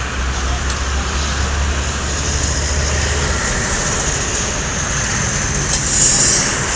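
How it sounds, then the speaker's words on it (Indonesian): Lorena double decker bus pulling in on a Palembang–Jakarta–Bogor route, a steady broad rumble of engine and road noise with a low drone early on, and hissing swells near the end, no talk. "Ini dia bus yang baru perdana masuk, Lorena double decker."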